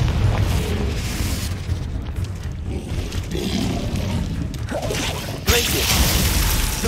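Confringo explosion spells go off in the video game Hogwarts Legacy, heavy booming blasts and crackling impacts layered with combat noise, loud and dense, with a fresh burst near the end.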